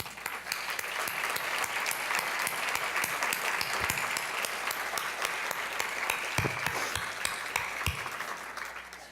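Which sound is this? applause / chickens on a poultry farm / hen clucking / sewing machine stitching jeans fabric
applause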